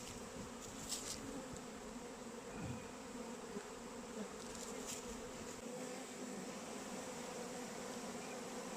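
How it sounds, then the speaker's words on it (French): A soft, steady buzz of many honeybees climbing back into their hive hums close by, continuous and low, with occasional faint clicks. "On va laisser les abeilles remonter tranquillement."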